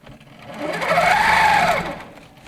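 Sewing machine stitching through quilt layers of wadding and backing fabric, a steady whirring run that ramps up, holds loud in the middle and eases off again, heard alone and close.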